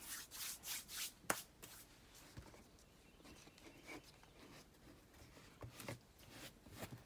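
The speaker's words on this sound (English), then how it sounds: "I gotta rub my hands now" Hands rubbing briskly together during hardcover bookbinding, a dry close-up friction swishing in several quick bursts with a sharper tap near the start, then quieter scuffing.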